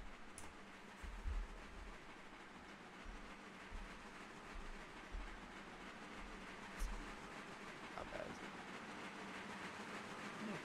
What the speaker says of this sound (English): I can hear the train coming and it sounds epic.